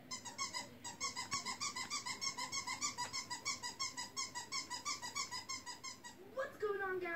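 A dog in a played-back clip makes a rapid series of rhythmic squeaky, whimpering vocal bursts, fairly faint, with a brief rougher sound at the end.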